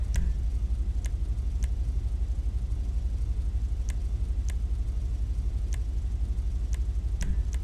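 Car engine and tailpipe exhaust in GTA 5, a continuous low rumbling idle with a steady pulsing throb and occasional faint high ticks, close and alone with no talk.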